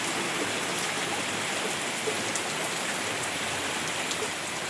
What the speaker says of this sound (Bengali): বৃষ্টিটা কীরকম হচ্ছে শুধু দেখুন